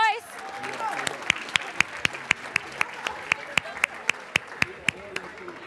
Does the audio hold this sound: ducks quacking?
no